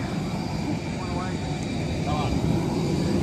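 An airplane sits ready for boarding, its engines giving a steady, loud broadband roar with a high whine throughout, while people talk over it.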